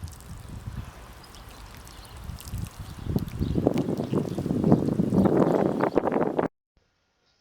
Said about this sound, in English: Now water the plants that you've left in.